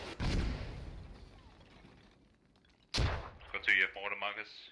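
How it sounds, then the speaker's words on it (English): Mortar fire in the tactical shooter game Squad, with a loud booming impact at the start and another at the middle that fade into low rumble. Radio chatter and other game sounds follow the second boom. "Mortars coming in just to the north of Raise and Dryers now."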